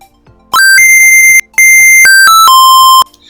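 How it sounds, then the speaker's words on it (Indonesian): An electronic buzzer in an ESP32 timer simulation plays a simple alarm pattern of clear beeping tones, two sustained bursts with stepped pitches, loud and close, no talking. "buzzer juga berbunyi dengan pola nada sederhana yang tadi udah disusun di fungsi playtone"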